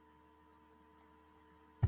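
Two light computer mouse clicks about half a second apart, close and crisp over a quiet room hum, then a louder bump at the end.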